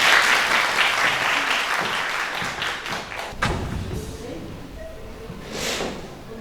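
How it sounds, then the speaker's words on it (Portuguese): Audience applause fills an evening conversation event, a dense wash of clapping from the start that thins after a few seconds, with a hand thump and a voice beginning to speak near the end. "Uma salva de palmas para esquentar essa noite."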